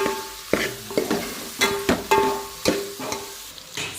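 Mutton fry sizzles in a pan, broken by several loud stirring scrapes and clanks at an uneven rhythm, all heard up close with no talking.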